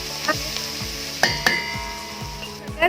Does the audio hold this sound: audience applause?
no